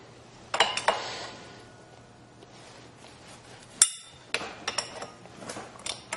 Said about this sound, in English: we're going to tighten up that lock nut